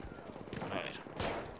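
Gunfire crackles in the shooter game Battlefield 1, heard as a quick burst of distant shots with a sharper crack near the end. It stays faint and brief against the background of play.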